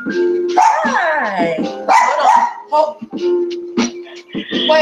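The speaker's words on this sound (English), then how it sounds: "My dog is getting jealous." Chocolate the dog barks and yips repeatedly up close while a person talks at the same time, the barks breaking through the speech in loud, uneven bursts.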